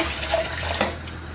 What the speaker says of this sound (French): on va mettre une troisième assiette d'eau chaude bien sûr